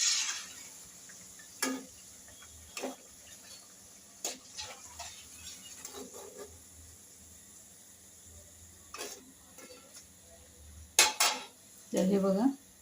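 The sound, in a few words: fried taro leaf vadis being taken out onto a plate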